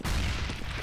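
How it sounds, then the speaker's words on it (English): A grenade blast in the shooter game CS:GO, a short dense burst of low rumbling explosion noise that fades over under a second, with no voices. "I am throwing a grenade!"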